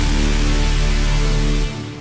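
A synthesized epic war horn layered with power chords: one thick, brassy, sustained blast, loud and full in the low end, holding steady for about two seconds before cutting off abruptly.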